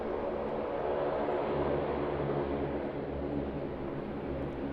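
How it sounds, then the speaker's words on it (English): A Saab 340 turboprop at Sydney Airport gives a steady, loud droning roar with a low propeller hum throughout, continuous and unbroken, with no talking. "Saab 340 you can hear,"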